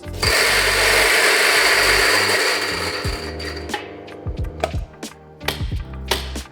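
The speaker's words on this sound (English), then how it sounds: "straight into the single dose grinder. Move to the coarsest setting." A single-dose coffee grinder set to its coarsest setting grinds beans for cold brew with a steady, loud whirring for about three seconds. The whir fades, followed by scattered clatters and knocks nearby.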